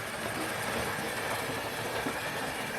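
Hornby model steam locomotive with tender drive running steadily on a model railway track, a continuous close whirring rumble with faint rhythmic wheel clatter throughout, no voices.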